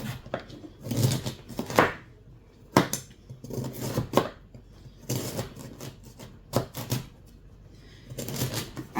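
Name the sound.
cutting leftover turkey dumplings with a knife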